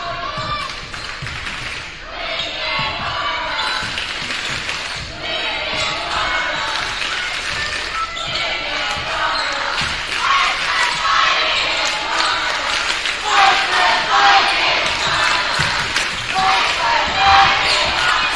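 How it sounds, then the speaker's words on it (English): A crowd roars and cheers nonstop in a loud gym during a basketball game, with ball bounces and thuds under the din and voices mixed in throughout. "It's like the crowd is getting into it"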